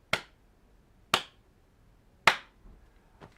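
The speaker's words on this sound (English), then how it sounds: "You clap and see if there's a difference" Three sharp, close hand claps land about a second apart in a quiet room, each followed by a short decay, with a fainter fourth snap at the end.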